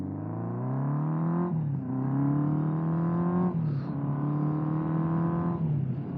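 A 1979 Honda CB750F Super Sport's engine hums steadily while riding, its pitch climbing then dropping at each gear shift, with three clear shifts in close succession.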